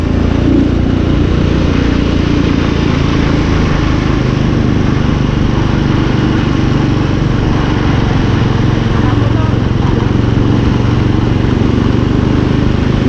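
A motorcycle engine drones loud and close on a rural road, a steady rough hum with a little variation, continuing without pause.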